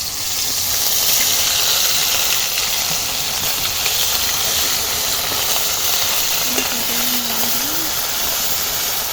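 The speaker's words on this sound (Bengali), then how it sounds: "এবার পেঁয়াজ, আদা, রসুন বাটা একসাথে সব দিয়ে দিচ্ছি।" Onion, ginger and garlic paste fries in hot oil in a kadai wok, giving a loud, dense, continuous sizzle and hiss up close, with a faint brief squeak late on.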